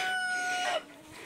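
Chicken calls in a September vegetable garden where hens roam among tomato plants: a single short, loud vocalization with a tonal, drawn-out quality that ends abruptly, leaving quieter outdoor background.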